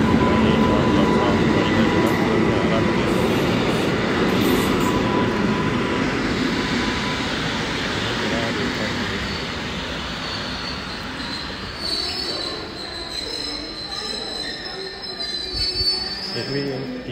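Train wheels squeal loudly and continuously on the rails as a local train runs through a station in Poland, a steady metallic screech with rumbling underneath that eases slightly toward the end.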